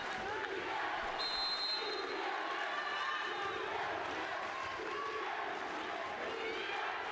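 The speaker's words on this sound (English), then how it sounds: "The crowd have woken up as well. There's some Turkish fans in the crowd." Turkish fans in the crowd cheer at a European volleyball championship semifinal between Serbia and Turkey, a steady roar of many voices in a large arena, with a whistle tone briefly cutting through.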